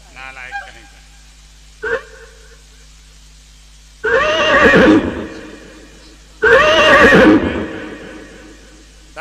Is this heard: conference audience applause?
no